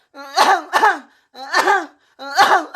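Several sharp, raspy coughs come in three close bursts, loud and near, each with a harsh throaty tone and short gaps of silence between.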